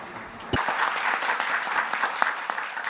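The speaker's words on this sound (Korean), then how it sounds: "큰 박수로 보내드리도록 하겠습니다" Applause from a conference audience at a session, starting abruptly and continuing as dense steady clapping that fills the rest of the moment.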